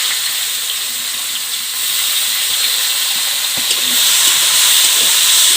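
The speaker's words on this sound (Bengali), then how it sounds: "এখন পেঁয়াজটাকে ভালোভাবে ভেজে নেব।" Chopped onions and small bay leaf pieces frying in hot oil with panch phoron, a steady broadband sizzle and hiss with occasional stirring clicks, growing slightly louder toward the end, no voices.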